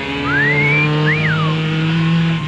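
Racing trucks at an all-truck drag event rev loudly at the line and launch, a sustained engine roar with a rising whine, heard close and without talk.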